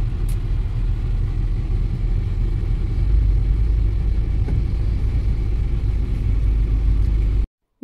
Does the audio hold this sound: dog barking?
no